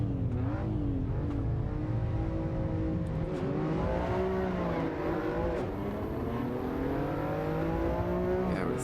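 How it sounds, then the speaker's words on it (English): Race car engine in Assetto Corsa Evo firing up and revving, the pitch rising and falling in repeated sweeps over a steady loud drone, close and without talk. "Let's start the engine here."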